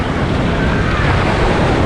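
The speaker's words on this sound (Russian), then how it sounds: "На этом пляже мы уже видим волны." Sea waves wash onto a crowded beach at Playa del Carmen. The surf is a steady, loud roar mixed with wind buffeting the microphone.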